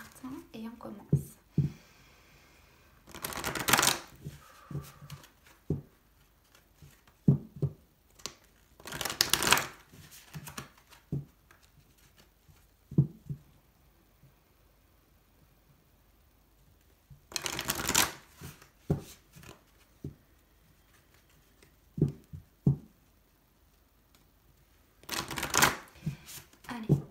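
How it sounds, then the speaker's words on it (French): Oracle cards are shuffled in several quick, crisp riffling bursts spaced apart, with softer handling taps and rustles between them, all close up. "je mélange les cartes et on commence."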